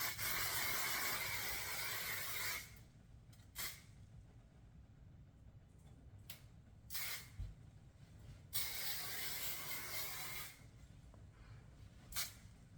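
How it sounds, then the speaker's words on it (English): Flexible-hold hairspray hisses out of an aerosol can in several sprays, two long bursts and a few short puffs separated by quiet pauses, close and fairly soft. "So it's time to spray it again."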